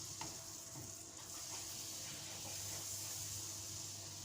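Melted butter sizzles in a pan, a soft continuous hiss heard quietly and evenly throughout with a few faint clicks.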